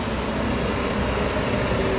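Trucks passing on a Brooklyn street on a wet Thursday night, a broad steady engine rumble and road roar that swells toward the end, with a faint high whine over it.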